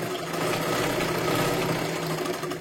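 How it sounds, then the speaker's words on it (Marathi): A sewing machine runs steadily as it stitches a double seam on a katori blouse, a continuous close mechanical whir without pause. "आता परत एकदा डबल शिलाई मारायची आहे."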